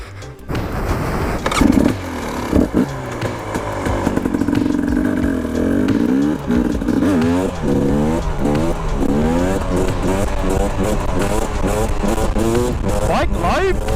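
A modern two-stroke motorcycle ridden on the street, loud and close, its engine revving up and down in repeated rising sweeps as it accelerates and shifts, with wind noise throughout.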